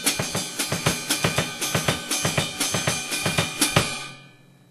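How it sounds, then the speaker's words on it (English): A drum set plays a jazz samba in binary subdivision with steady, evenly accented hits and cymbal wash, moderately loud and close, before fading out at the end. "4 measures of jazz samba"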